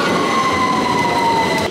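A London Underground train pulls in with a loud, steady rumble and a high, sustained squeal of wheels or brakes running throughout, with no talking.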